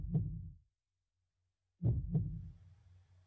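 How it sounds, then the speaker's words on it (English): Heartbeat sounds open a song performance at a gala concert: two deep, booming thumps, a double beat close and loud, with a long silent gap between them. "I can really feel the intensity based on those three heartbeats alone"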